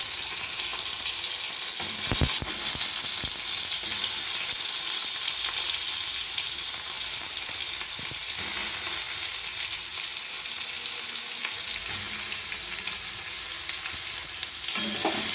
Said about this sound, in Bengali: একটু ভাজা ভাজা করে নেব সয়াবিনটা।